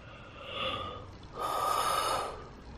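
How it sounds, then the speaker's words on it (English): A person yawns twice, first with a short breathy intake and then a longer, louder drawn-out yawn, close and alone with no talk. "Didn't mean to yawn when I said that"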